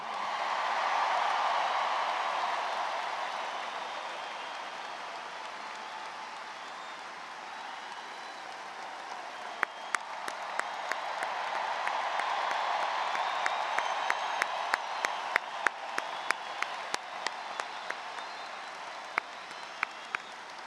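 A stadium crowd applauds steadily at a baseball retirement ceremony for Molina and Pujols, with sustained cheering and a roar that swells and then eases. Sharp, close individual claps punctuate the second half.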